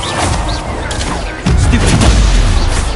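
Spells are cast in Hogwarts Legacy, with dense, loud magical blasts and booming impacts that swell suddenly halfway through and continue without a break.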